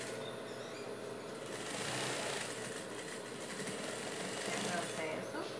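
A sewing machine stitches the folded hem of a dog shirt, giving a steady, close mechanical hum with a fast needle rhythm that runs without a break.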